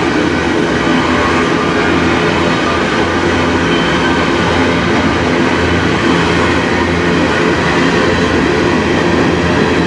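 A CN potash freight train rolls steadily past close by, with locomotives at the lead and rear, giving a loud continuous rumble and clatter of wheels on rail with no break throughout.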